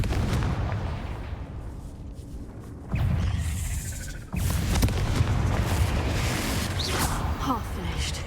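Fiery spell blasts go off in Hogwarts Legacy, with sudden loud booming bursts near 3 and 4.4 seconds over a dense, noisy backdrop of in-game combat.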